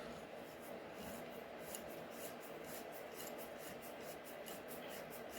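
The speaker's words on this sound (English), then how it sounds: "Take the drill bit here." A steady, rhythmic scraping rasp repeats rapidly and evenly as a hand drill bit bores a 3/16-inch hole, quiet and close.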